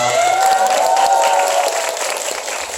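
Audience at a film stage greeting for a Korean movie, applauding and cheering loudly in a steady wash of clapping with a few shouts and whistles, fading slightly toward the end.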